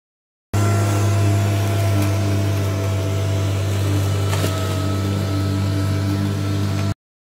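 A Gardena PowerMax 1600/37 electric lawn mower runs with a muffled, steady motor hum, droning without a break for about six seconds, low and even like a vacuum cleaner.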